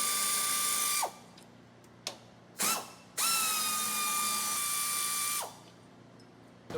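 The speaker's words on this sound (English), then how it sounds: "right now we're gonna take off the top two bolts off the radiator" A power tool whirs in several bursts while bolts are removed from a car radiator: two long high-pitched runs separated by short blips, each ending with a winding-down whine, close and loud.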